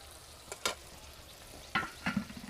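Ginger, cumin and onion pastes go into a hot pan with dried and green chillies and then turmeric paste. Short bursts of sizzling and stirring rise over a faint background.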